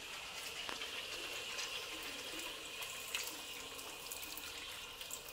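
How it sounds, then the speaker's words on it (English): Hot water runs steadily from a kitchen tap in a continuous, moderately loud stream while stewed catfish is being cooked, with a few faint clinks over the flow. "Put hot water."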